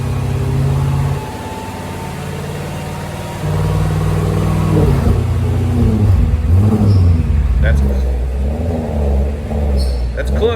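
An Audi RS7 fitted with an aftermarket exhaust, valves closed, rumbles at idle before several revs rise and fall up close, a muffled throaty drone with voices talking over the engine.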